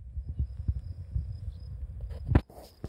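Bees buzz among dense flowers in a natural meadow, a close, low, wavering hum that swells and fades, with a brief louder burst near the end.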